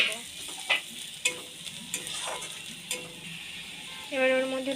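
Chopped onions with turmeric and cumin powder frying in a pan for green chicken curry, a steady sizzle broken by several scraping stir strokes and light clinks, and a brief tonal sound at the end.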